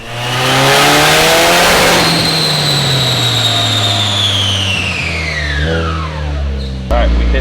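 A boosted project car engine roars on a dyno at full load, pitch climbing then easing off as boost cut hits, followed by a sharp pop and a lower idle, loud and close.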